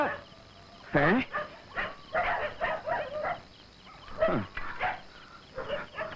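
Native street dogs bark and yelp in short bursts, close by, mixed in with people talking throughout, in a film scene.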